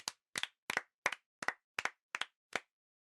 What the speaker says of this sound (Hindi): बहुत अच्छे, तालियां।